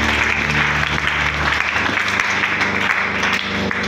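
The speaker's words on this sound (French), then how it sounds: "Et on peut encore acclamer très fort" Loud, steady applause from a church congregation during a Sunday worship service, continuous dense clapping filling the space with faint voices underneath.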